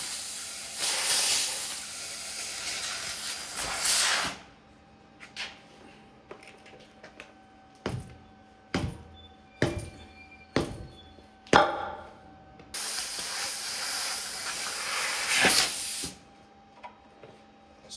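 A handheld laser cutting 100-year-old steel gives two long, loud hissing bursts with a run of sharp clicks and short pops between them, all close by.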